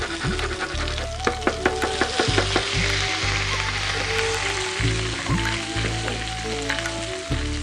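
Coriander seeds and grated ginger sizzle and splutter in hot oil, a dense crackling fry with scattered pops and the occasional scrape of stirring, steady and close.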